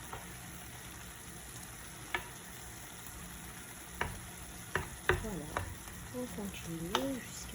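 A spoon stirs veal and onions frying in a pan for a chickpea tajine, under a soft continuous sizzle with a few scattered scraping knocks. A voice speaks briefly near the end.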